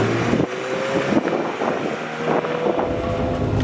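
A Le Mans Blue Ferrari F355 Spider driving with its roof down, engine droning steadily under heavy rushing wind noise, loud and continuous with no talking.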